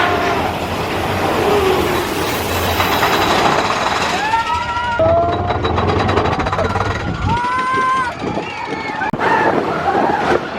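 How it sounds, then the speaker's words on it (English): A Magic Kingdom theme park train ride at Disney World clatters and rumbles along its track amid crowd noise, with brief high squeals and whistling tones partway through. "Here's our train."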